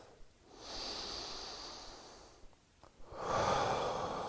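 Slow, deep breaths drawn and released through the nose during a held yoga warrior 1 pose, soft and close, with a pause before a fuller exhale.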